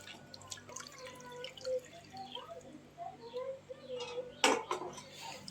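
Water dripping and splashing around a home kitchen during rain while rice cooks and fish soaks, with scattered drips, clinks of pots and utensils, and faint background noise, fairly quiet overall.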